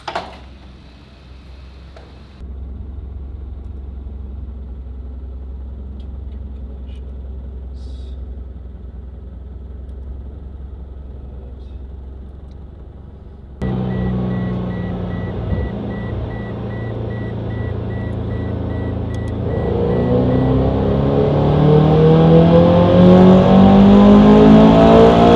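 A Toyota TRD 86 on a dyno, its engine idling and then climbing through a long, loud rev as the pitch rises steadily toward the end, with a faint steady tone in the background.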